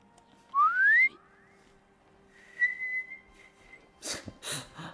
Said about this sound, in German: mein Pfeifen braucht noch ein bisschen